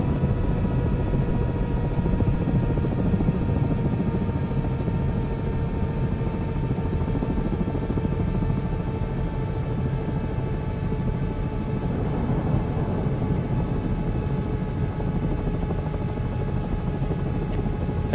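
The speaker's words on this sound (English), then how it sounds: "can you guys hear the audio from that video? That helicopter video I got in the background?" A helicopter playing from a background video, a continuous loud rotor thrum and engine drone with a steady whine, unchanging and close throughout, no speech.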